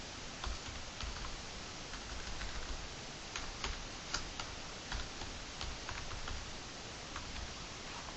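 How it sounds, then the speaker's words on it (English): Quiet, close computer keyboard typing as a keyword is entered into a search box, with irregular soft key taps over a low hiss and no talking. "Let us type the keyword in search box."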